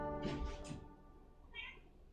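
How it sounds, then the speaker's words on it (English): Indoor cat cries out during a fight with another cat, a short strained yowl followed by a brief higher squeal, faint and close over a low hum. "I just heard the sound of a crash and one of the cats going"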